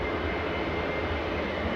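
Steady broadband roar of a Jet2 airliner departing Manchester Airport for Girona, a continuous engine rumble holding level throughout, no voices.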